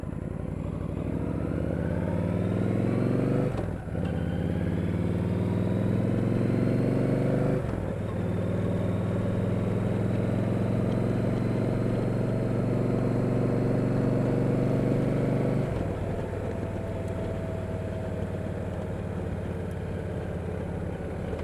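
A motorcycle cruising along a rural road, its engine droning steadily and loud with pitch rising through gear changes, broken by brief dips at each shift, all under constant rushing wind buffeting the microphone.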